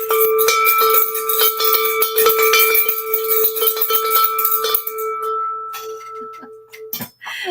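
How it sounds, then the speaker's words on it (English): A handmade bell struck repeatedly, its steady ringing tones sustaining loudly for about five seconds before thinning into sparser, quieter strikes and a final clatter. "from that bell that John made"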